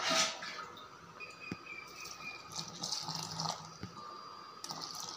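Water is poured into a rice flour batter mixed with gram flour and semolina, a soft trickling, splashing stream with small drips, faint and close, with no talk over it.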